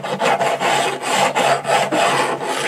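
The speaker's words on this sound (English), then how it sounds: "I'm going to start with the file." A hand file rasps over hard stainless steel guitar frets in steady back-and-forth strokes, about six close, even scrapes with short gaps between, with no talk.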